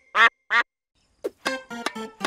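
Cartoon duck in a children's animated tennis game gives two clear, loud quacks close together, then a pause before a string of further quacking calls in quick succession.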